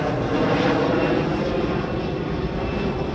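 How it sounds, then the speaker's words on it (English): An airplane passes overhead, producing a loud, continuous engine roar that stays steady and broad throughout, with no clear speech over it. "There's a plane going overhead."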